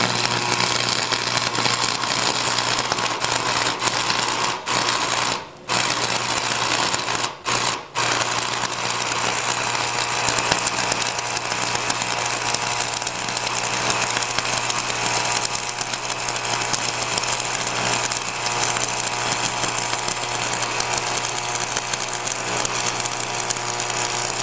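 Stick arc welding with a red-hot electrode tip, giving a steady, loud buzzing crackle that runs continuously with a few brief gaps near the start.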